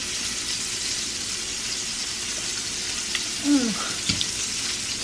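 Steak searing in a pan with rosemary and garlic makes a steady, moderately loud sizzle throughout, broken near the end by a brief squeak and a short knock, with no voices.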